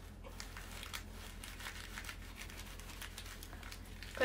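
Tissue is crumpled into a ball by hand, close soft crinkling and rustling in a continuous series of small bursts over a low background hum.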